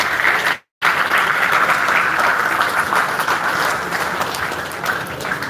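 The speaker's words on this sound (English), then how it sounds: "give yourselves a round of applause" At a forex expo, a large audience claps in a loud, continuous roar of applause, broken by one very short dropout near the start and then running on evenly.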